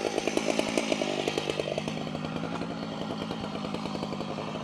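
A chainsaw freehand cutting down through a huge oak beam, its engine roaring steadily close by with a rapid pulsing chatter as it bites through the wood.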